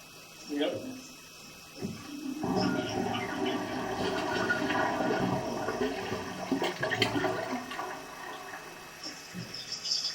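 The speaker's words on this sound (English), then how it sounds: "Could you give a flush with no paper?" A toilet flushes with no paper in the bowl: a short gurgle, then a loud, sustained rush of water that tapers off, with people talking briefly nearby.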